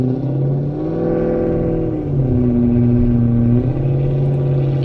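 A Tesla named Ruby makes a loud, steady droning whir with shifting tones, close and continuous, with no talking over it.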